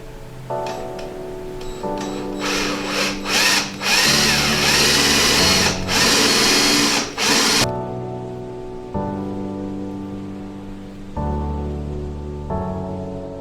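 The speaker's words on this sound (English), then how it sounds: "I'm gonna start drilling one of the holes" A power drill whirs in several bursts, its pitch shifting under load as it bores holes through go-kart parts, close and fairly loud, with brief pauses between runs.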